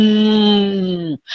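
A single long, steady moo from a human voice imitating a cow, loud and close, fading out abruptly.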